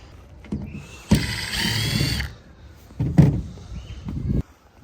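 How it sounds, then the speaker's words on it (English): A power driver with a T15 bit backs out screws from a small panel inside a Duramax pickup tailgate, giving two short whirring bursts separated by a pause, with clicks and handling noises around them, close up and fairly loud. "you're just going to undo these 8 screws on this little piece inside the tailgate"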